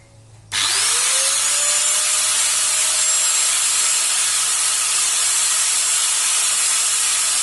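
A Stanley STGT 6100 angle grinder starts abruptly and spins up to a loud, steady high whine, running continuously and close with no voices.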